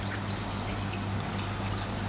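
Fish keep net lowered into water, giving a steady, continuous pouring and trickling wash with a low hum under it, close and moderately loud throughout.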